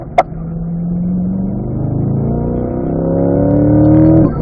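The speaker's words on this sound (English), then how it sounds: "As we accelerate out, we're going back to fourth gear." A Corvette accelerates hard out of a turn on a race track, its engine note climbing steadily in pitch and loudness from close by, then cutting off sharply after a brief click at the start.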